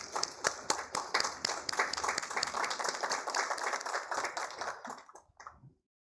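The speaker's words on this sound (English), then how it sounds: "Can we have a round of applause" A conference audience applauds with dense, steady clapping for about five seconds, then it tapers off and stops.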